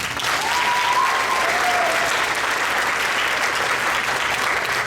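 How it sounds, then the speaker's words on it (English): Audience applause for the clarinet section at a sixth grade band concert, a dense sustained clapping wash lasting about five seconds, fairly loud and even, with a few faint voices mixed in. "Round of applause for clarinet."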